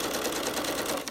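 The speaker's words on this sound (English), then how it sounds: "continuing to sew along." Sewing machine stitching along a zipper on a zipper pouch, a steady, close, continuous mechanical whir with fast, even needle clatter throughout, no talking.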